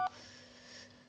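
A short electronic chime rings out, then a steady tonal hum holds beneath soft high hiss for about a second, as a Jio Bharat V4 4G feature phone powers on.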